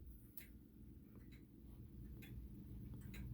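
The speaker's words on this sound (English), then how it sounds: "You can hear it ticking." A King Arthur chain-driven triple-chime grandfather clock ticking steadily indoors, with crisp ticks at an even pace and a low background hum underneath. The clock is close but quiet, and no one speaks.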